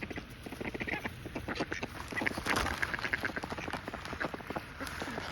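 A group of ducks quacks steadily and busily nearby while eating grubby bird food, with overlapping rapid calls and splashy, pecking noise throughout.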